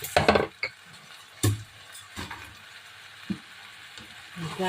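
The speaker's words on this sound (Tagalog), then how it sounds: "Lalagay ko na po yung talong." Eggplant hitting hot oil in a pan alongside pork belly, a loud burst of sizzling frying at the start, then steady crackling with a few sharp stirring and utensil clinks near the microphone.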